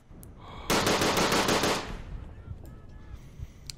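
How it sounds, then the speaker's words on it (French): Gunfire in the World War I shooter Verdun: a loud burst of rapid automatic fire lasting about a second, then fading into scattered distant shots and battlefield noise. "j'ai l'impression que toutes les armes font absolument toutes le même bruit"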